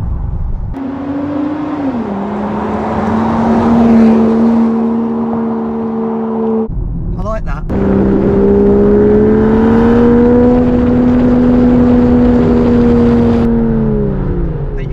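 A 2024 Range Rover Sport Hybrid runs with its exhaust valves open, a steady low engine drone that rises and dips with revs, briefly cut off midway before resuming loud and close.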